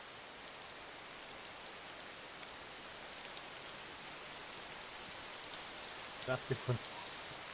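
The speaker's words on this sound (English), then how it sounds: "it's raining again, guys" Steady hiss of rainfall pattering on surfaces throughout, fairly soft and continuous, with a person speaking briefly near the end.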